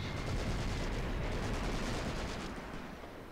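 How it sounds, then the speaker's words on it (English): Dense, continuous rumble of artillery fire in the Graviteam Mius Front war game, a steady barrage of overlapping booms and crackling blasts that holds loud throughout and eases slightly at the end, with no talking. "I've launched so much artillery at you"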